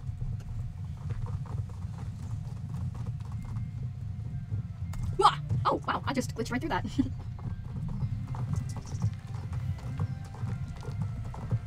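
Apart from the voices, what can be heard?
horse hooves while riding, from video game Star Stable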